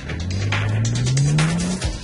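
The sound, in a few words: prototype BMW self-driving car setting off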